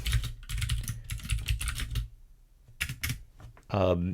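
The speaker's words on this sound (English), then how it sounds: "I'll hit tilde on my keyboard and go back to the terminal here" Typing on a computer keyboard at a Python prompt in a terminal, a steady run of close, quick key clicks in bursts with a short pause, then a brief voiced sound at the end.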